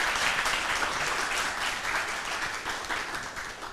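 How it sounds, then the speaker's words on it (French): Studio audience on a television talk-show set applauding loudly, a dense, steady wash of many hands clapping that holds for several seconds and tapers slightly at the end. "Ça peut s'applaudir très très fort au public."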